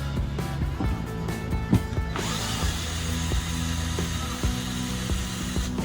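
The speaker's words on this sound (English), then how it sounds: "let's go ahead and unscrew this thing here" Screws come out of an RV table under a power drill, a close steady whirring buzz with a sharp rise in pitch partway through and small ratcheting clicks beneath it.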